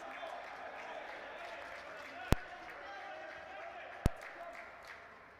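Soccer crowd on its feet at an MLS match between Amarillo and Salt Lake City, a steady broad roar of cheering from the stands with two sharp claps or bangs cutting through, heard at a distance.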